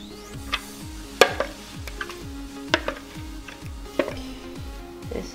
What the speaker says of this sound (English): Whisk until smooth